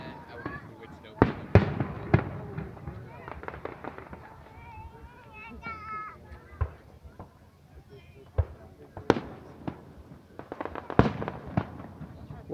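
Fourth of July fireworks burst in a series of sharp booms and crackles, some close and loud, others farther off, spread irregularly over time while people chat and call out nearby.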